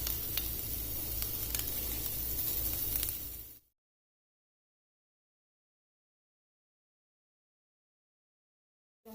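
Medium-sized onion rings sizzling in hot oil in a pan, a steady close hiss for a few seconds before cutting to silence.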